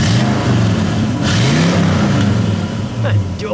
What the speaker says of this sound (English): That was a good rev.